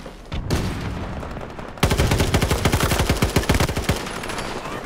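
Factory GEW gunfire in the video game Battlefield 2042: a few separate shots, then a long rapid automatic burst of sharp, evenly spaced cracks, loud and close.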